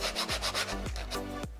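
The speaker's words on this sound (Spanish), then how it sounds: "Lijo un poco la pieza" Rhythmic back-and-forth sanding on wood, about half a dozen brisk rasping strokes close by, with no voices.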